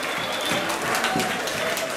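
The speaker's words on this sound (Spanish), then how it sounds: "Un aplauso para sus MCs" A crowd at a freestyle rap battle final in San Luis applauds the MCs, dense clapping and cheering mixed with crowd noise throughout.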